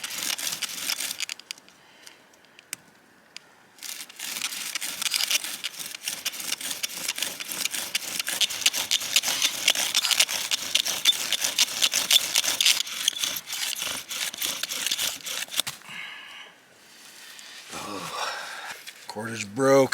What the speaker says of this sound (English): shape my spindle, we'll get ready to crank.